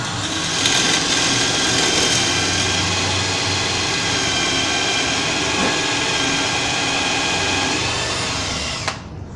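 Power drill boring perpendicular through melamine board into a wooden dowel for a small side table, a loud continuous whirring drone held for several seconds, close up, stopping abruptly near the end.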